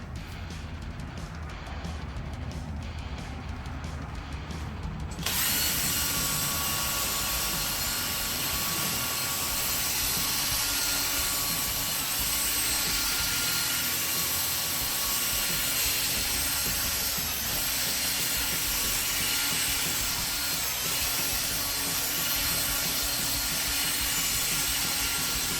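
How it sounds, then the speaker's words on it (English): Drill spinning an 800-grit white sanding pad against a cloudy car headlight during a 3M headlight restoration, a loud steady whirring hiss that kicks in after five seconds and runs on evenly. "we want to use the 800 pad. It's the white pad. Go ahead and put it on your drill and start over again."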